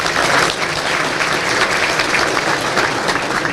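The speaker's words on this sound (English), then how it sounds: "Please give him a round of applause." An audience applauds at an annual Chaldean community event honouring a state senate majority leader, a dense, steady wash of many hands clapping filling the room for several seconds without pause.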